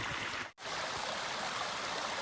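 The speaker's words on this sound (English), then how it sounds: "Kind of have a little small waterfall here." A small waterfall on a hiking trail near a forest road crossing rushes steadily and close by, a broadband wash of falling water with one brief dropout early on and no voices.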